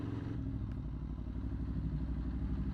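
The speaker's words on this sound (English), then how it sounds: "Oh, listen to this bike down here." A V4 motorcycle engine idling or passing at low speed outside, a dense steady low rumble held throughout with a faint clatter, fairly loud and with no talk.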